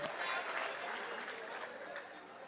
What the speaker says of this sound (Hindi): जोरदार तालियों के साथ दोस्तों।